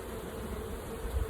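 Honeybees hum steadily around an opened backyard beehive, a close, continuous drone with no talking.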